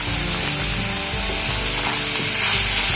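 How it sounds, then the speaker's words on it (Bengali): Ash gourd being stir-fried with turmeric and salt in a pan for a shrimp and ash gourd ghonto, giving a steady, close sizzle with scraping stirs and low rumble throughout, no voices. "এবারে সমস্ত মশলার সঙ্গে চাল কুমড়োটাকে ভালো করে মিশিয়ে নিয়ে বেশ কিছুক্ষণ সময় ধরে খুব ভালোভাবে কষিয়ে নিতে হবে।"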